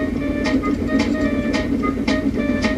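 Diesel locomotive Duncan rocking and rolling along a railway line, a steady rumbling ride with periodic rhythmic clacks roughly every half second, loud and continuous with no talk.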